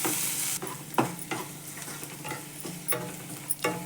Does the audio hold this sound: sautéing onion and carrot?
yes